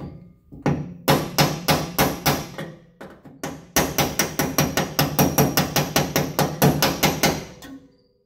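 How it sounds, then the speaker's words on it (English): A hammer beats on a second hammer held against the body of an F150 to pull out dents: about two dozen sharp metallic blows in quick steady bursts, close and loud, with a short pause between the two runs. "So I'm gonna use this hammer to hit this hammer."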